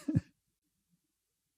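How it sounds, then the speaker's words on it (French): A single short, close throat clearing, a quick gravelly rasp lasting a fraction of a second, followed by near silence. "je vais aller me racler la gorge"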